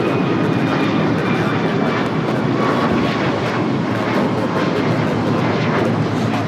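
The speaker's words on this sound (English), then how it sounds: "This is United Airlines 2443 taking off to Cleveland, Ohio on the MAX 9." United Airlines Boeing 737 MAX 9 jet in Raiders livery taking off from LAX, a loud, steady, continuous engine roar close by with no voices over it.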